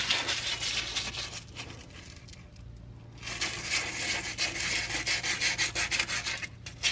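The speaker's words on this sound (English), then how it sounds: "So here I've been sanding away at the red paint" Steady scratchy rubbing of sandpaper over red-painted brake calipers, rhythmic back-and-forth strokes, close up, pausing briefly midway before resuming faster.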